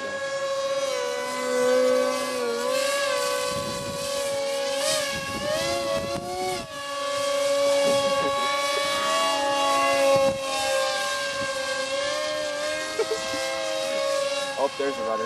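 Electric motor of a student-built MF Typhoon aircraft hovers at half throttle, giving a loud, close, steady whine whose pitch wavers up and down throughout, with a voice talking faintly beneath it.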